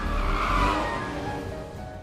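Cars racing in a film chase scene involving a limousine, with a loud, sustained tire squeal and engine roar that swells early and then tapers off steadily.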